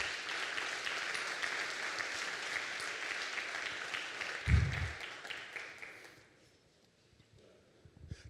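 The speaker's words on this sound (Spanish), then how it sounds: "Le damos un fuerte aplauso a Dios." A church congregation claps during a Spanish-language sermon, broad steady applause filling the first six seconds before fading out, followed by near quiet with a faint tap at the end.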